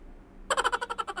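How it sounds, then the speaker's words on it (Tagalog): A wild bird held in the hand gives a quick run of about nine rhythmic, chattering calls after a quiet start, fairly close but not loud. "pakawalan tong ibon na to na nakita natin kanina"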